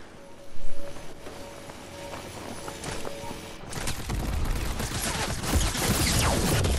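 Video game gunfire in a live event match, starting faint and sparse, then building after a few seconds into dense, continuous rapid shooting that fills the rest of the stretch.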